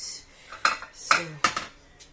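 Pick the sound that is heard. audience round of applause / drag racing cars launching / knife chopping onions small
knife chopping onions small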